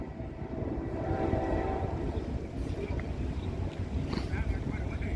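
A Norfolk Southern freight train rolls past in Ohio with a rumbling, rattling drone of cars over the rails, wind buffeting nearby and a faint horn-like tone in the background.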